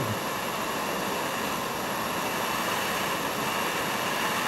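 Roaring torch flame during glass bead making, a loud, steady broadband rush like a small jet that stays constant and unbroken with no voices over it.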